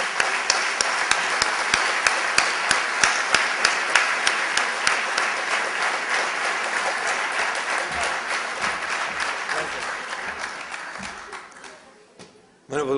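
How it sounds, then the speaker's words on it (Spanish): An audience in Uruguay gives a warm round of applause to welcome a speaker at a talk, with steady, full clapping and some sharp individual claps standing out before it thins out and fades near the end. "lo recibimos con un cálido aplauso"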